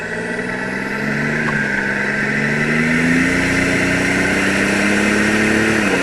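A 1986 Buick Grand National with a turbocharged engine and 31K miles drones steadily from inside the cabin while driving, its pitch rising gently and holding in a smooth, continuous hum.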